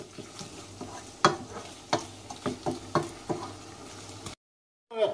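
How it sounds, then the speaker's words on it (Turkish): Tomato paste fries in a pan for a pea stew, sizzling softly as a spoon stirs and knocks against the pan in irregular sharp taps, close up, before a brief silence and another scrape. "Salçayı hazır salça kıvamından ev salçası kıvamına gelene kadar kavuracağız."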